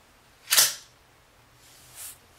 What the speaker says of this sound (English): The beautiful mechanical sound of when you open the hood is just beyond me